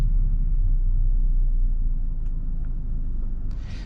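A 2023 Hyundai Kona small SUV moving slowly around a parking lot, with a steady low engine and road rumble from inside the cabin, a couple of faint clicks, and a brief rustle near the end.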